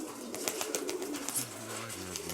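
Pigeons in Mykolaiv give a clear, close, low rolling coo in the second half, over a soft bed of rustling and faint chirps.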